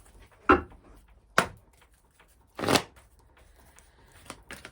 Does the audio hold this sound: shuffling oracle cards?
yes